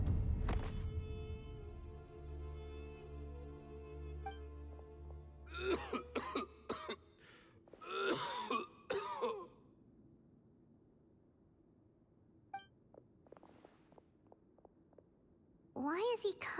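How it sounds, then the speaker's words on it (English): A video game character in a Genshin Impact quest involving Cyno coughs in a rough cluster of hacking bursts, moderately close, with a later cough or two after a quieter stretch and some game ambience. "Why is he coughing so much?"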